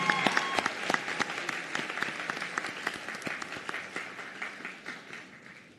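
A crowd gives steady, sustained applause for graduating nursing students at a nursing school graduation ceremony, dense clapping from many hands that gradually thins and softens toward the end.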